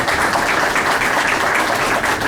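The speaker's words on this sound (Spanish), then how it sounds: "Les pido para él un fuerte aplauso" Steady, loud applause from a seated audience at a conference on penal mediation, a dense, even wash of many hands clapping with no talk.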